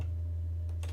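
Keys tapped on a computer keyboard while code for a Unity character controller is entered, a couple of quick close clicks near the end over a steady low hum.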